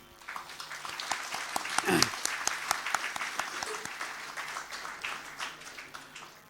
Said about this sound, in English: let's give a big hand of applause to those who have been selected out of 253